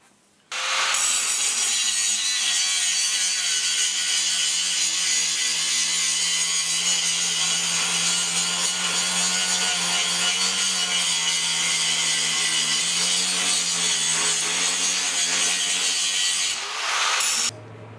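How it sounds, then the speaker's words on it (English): A power grinder works steel parts for a forge press built around a jack. The harsh, continuous abrasive whine runs loud and unbroken for most of the stretch, then cuts off near the end. "So all these parts now, I'm just gonna grind them up"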